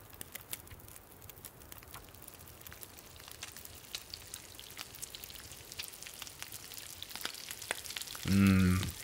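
Food fries over a fire in the survival video game The Long Dark, a continuous light crackle and sizzle with scattered pops, ending with a brief tonal game chime.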